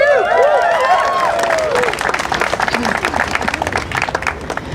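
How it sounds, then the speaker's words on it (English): A crowd cheers and applauds at a gathering on Treaty 6 territory: high whoops and shouts at first, then dense, steady clapping carrying on loudly throughout. "Give yourself a cheer."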